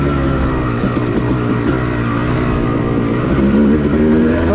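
A Yamaha YZ250 two-stroke dirt bike ridden on a wooded OHV trail, its engine buzzing loud and close with rising and falling revs under throttle.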